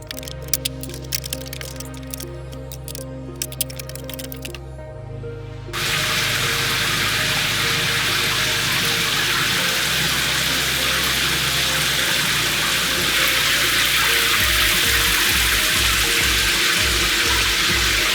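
Water switches on partway through and runs steadily from a Kohler 8-inch rainfall shower head in a bathroom under rough-in plumbing, a loud even hiss after some clattering handling sounds at the start.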